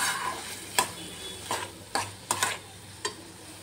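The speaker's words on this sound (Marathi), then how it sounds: "आता इथे छान असं परतवून घ्यायचं आहे। टोमॅटो पण आपला मध्यम शिजलेला आहे।" Tomato and vegetables sautéed in a pan for an eggplant dish, with a soft steady sizzle under a handful of sharp spoon scrapes and knocks against the pan at irregular intervals.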